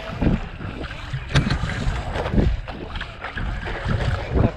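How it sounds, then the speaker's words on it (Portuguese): Strong wind buffets a boat crossing choppy open sea in Norway, roaring steadily with gusty swells and water rush, close and loud throughout. "Apertou, o vento apertou."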